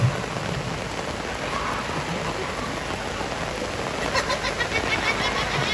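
Heavy rain pours steadily over an outdoor Balinese Bondres comedy performance at a Bangli city anniversary event, a dense, continuous hiss that swells slightly toward the end.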